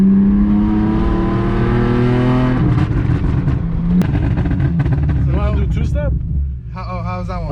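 An Infiniti Q50 engine holds a steady high rev on a two-step launch limiter, then the tone drops and breaks up into popping bursts, loud and close from inside the car, with people talking over it toward the end.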